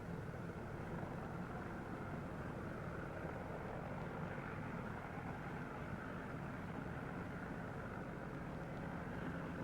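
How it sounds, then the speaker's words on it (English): A 1941 New Zealand training aircraft's engine drones steadily during a first takeoff, a dense, continuous roar at moderate level throughout, with no talk. "And now comes the big thrill, the first takeoff."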